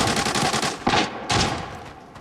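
Automatic gunfire in the shooter Arena Breakout, a rapid close burst followed by two heavier separate volleys, loud and sharp with no talking over it.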